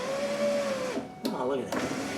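The power window regulator in a 2000–2005 Chevrolet Impala front passenger door runs with a steady electric motor whine, stops, then gives short motor bursts with clunks, close up and moderately loud, with a voice talking over it.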